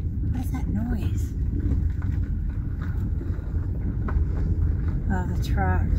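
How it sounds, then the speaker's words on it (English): A steady low roar of trucks rolling past on a nearby road outside an abandoned mining ghost town, with wind buffeting the microphone and people talking over it throughout. "Oh, the trucks."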